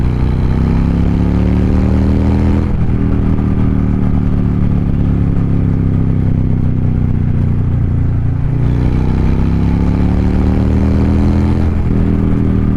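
A motorcycle engine held at wide open throttle during autotuning, a loud sustained roar with rising pitch that drops briefly at each gear shift before climbing again, close and continuous with no talk.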